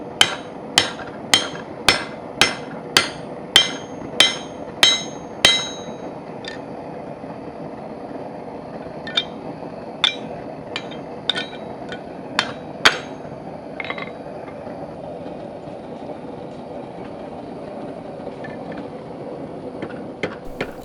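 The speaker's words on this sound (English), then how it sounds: "I'm going to continue using the drift, or the punch as a drift, until I open the hole up enough to get onto the horn of my anvil." A hammer strikes a hot steel bar and punch drift on an anvil, ringing out in a fast, even run of about a dozen loud clangs, then a sparser, quieter series of blows.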